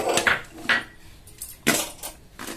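A spoon scrapes and knocks in a pan while stirring lemon rice, a few close clattering strokes with short pauses between them.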